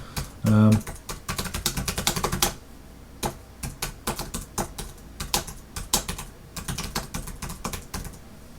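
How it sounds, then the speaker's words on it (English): Typing on a computer keyboard into a simple article submission form, with rapid irregular key clicks in bursts that continue throughout, fairly close, and a brief voice near the start. "I'm just going to type a little something in here."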